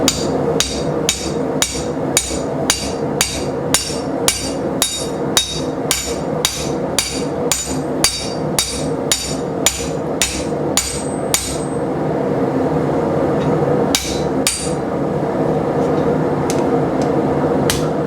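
Loud, evenly spaced hammer blows ring out on a new Vevor steel anvil, about twenty sharp metallic strikes in steady rhythm, then the beating stops and a steady background noise remains with a couple of faint taps.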